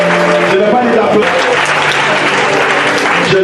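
A church congregation claps steadily at a Sunday service in Abidjan, a dense continuous applause with crowd voices and a sustained musical tone running underneath.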